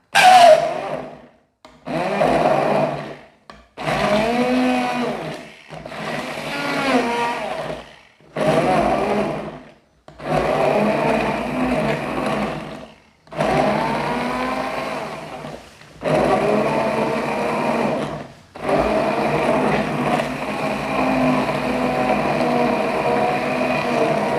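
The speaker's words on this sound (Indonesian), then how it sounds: "bumbu-bumbu tadi kita blender dulu ya, kita haluskan dulu. Kita kasih air sedikit agar mudah di blendernya." An electric blender grinds spice paste for sambal balado tongkol with a little water, running in several loud pulsed bursts separated by short silences, then holding a steady whirring drone to the end.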